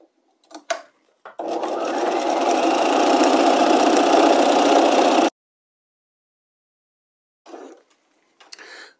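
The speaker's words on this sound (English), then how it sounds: "I'm going to stay stitch that" A sewing machine stay-stitches bodice lining and interfacing at a quarter inch, with a few short stitching bursts, then one steady, close run of about four seconds, followed by silence and two more brief bursts.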